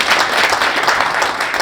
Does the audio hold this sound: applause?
yes